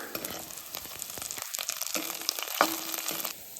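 Onions and curry leaves fry in a pan with a soft, steady sizzle and occasional stirring scrapes, heard close and alone.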